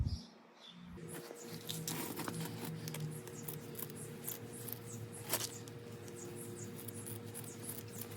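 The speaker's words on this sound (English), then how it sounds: "get yourself a better set of scissors than what I'm using right now" Scissors snip in quick, soft, irregular cuts close by while hanging baskets are being assembled, with light rustling of material between the snips and no talking.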